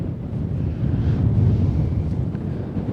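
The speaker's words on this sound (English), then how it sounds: "Really windy." Strong wind at a mountain campsite buffets the microphone in a continuous low rumbling roar, gusting slightly louder midway, with no voices.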